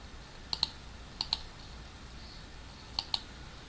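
A computer mouse clicks in three quick double-click pairs, crisp and close against a quiet room hiss.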